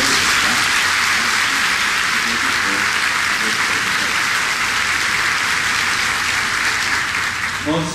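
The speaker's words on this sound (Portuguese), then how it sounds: "uma salva de palmas para o Marquinhos, para a esposa, tá?" A church congregation at a Mass closing an engaged couples' course applauds, a loud, dense and sustained burst of clapping that fills the space evenly for the whole stretch.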